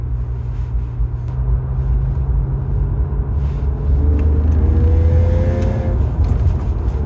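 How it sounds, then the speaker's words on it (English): A Honda with a new J-pipe exhaust and Tsudo parts drives on a highway, its engine droning loudly inside the cabin and then building in a low rising rumble as it starts to accelerate. "Alright, we about to do a highway pull."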